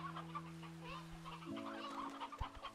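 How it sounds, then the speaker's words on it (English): Chickens cluck in Slime Rancher 2 on a snowy Rainbow Isle ranch, several short clucks scattered close by over a steady low game hum, no talking. "Look at all these chickens."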